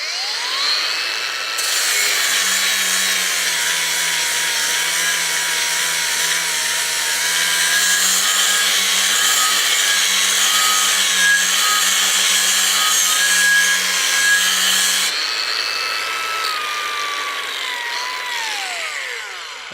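A cordless angle grinder with a flap disc runs at high speed against steel, giving a loud, steady, sustained whine with a faint grinding rasp. It spins up near the start, holds for about thirteen seconds, then drops in pitch as it slows.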